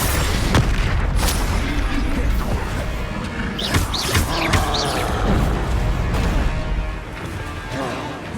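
Confringo and Bombarda spell blasts in the Hogwarts Legacy video game, in a dragon nest: a rapid run of heavy booms, cracks and crashing impacts over a constant roar of combat.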